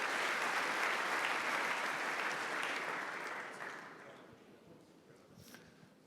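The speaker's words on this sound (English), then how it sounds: "A round of applause." A conference crowd at a startup competition gives a round of applause, dense clapping that holds steady for a few seconds then tapers off into scattered claps and room quiet.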